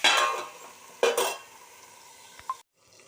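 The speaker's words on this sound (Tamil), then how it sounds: "இப்போ தட்டை போட்டு மூடி வச்சுட்டு 5 நிமிஷத்துக்கு ஒரு ட்ரிப்பு பரட்டி விட்டுடலாம்." A spoon stirs an eggplant and pumpkin curry in a pan on low heat: two brief scraping, sizzling stirs near the start, then a couple of faint taps and quiet simmering.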